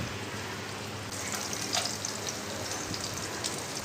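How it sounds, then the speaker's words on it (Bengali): Chopped onion and garlic fry in hot oil with a soft, even, rain-like sizzle and faint crackles, fairly quiet and steady, one brief tap near the middle, no voices. "আমি গরম তেলের মধ্যে পেঁয়াজ দিয়ে দিলাম কুচি"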